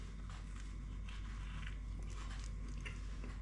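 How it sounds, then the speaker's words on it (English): Someone bites into a traditional Cornish pasty that has been left to cool, with meat at one end and fruit at the other; a close, steady crunching and chewing texture runs for a few seconds, with no talking. "let me just pick it up and bite into it."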